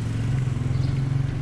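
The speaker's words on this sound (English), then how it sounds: "very heavy, huge, all-wheel drive driven beast is a naturally aspirated 2-liter boxer engine" The naturally aspirated 2-liter boxer engine of a 2020 Subaru Forester GT idles, a steady low throb heard up close, cut off by a sharp knock at the end.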